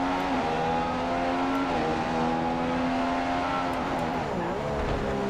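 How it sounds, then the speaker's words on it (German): A Formula 1 race car engine in the F1 2015 video game, during a Singapore practice session, holds a steady high-pitched whine with smooth pitch dips and rises, mostly alone and fairly quiet. "Und der Wagen klingt ja auch deutlich anders."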